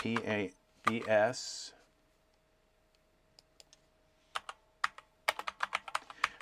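Computer keyboard typing, entering a short search term into a file search program: a handful of scattered sharp key clicks building into a quick run of taps, following a stretch of talk and a pause.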